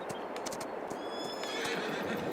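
Horses in Farming Simulator 22 whinny several times over soft hoof clip-clops at a stable. The sounds are faint and close, with no talking.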